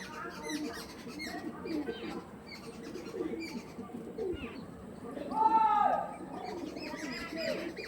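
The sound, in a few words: pigeons cooing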